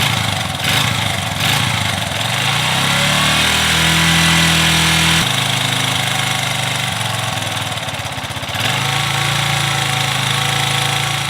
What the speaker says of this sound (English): when I turn it off choke, basically it just starts idling super high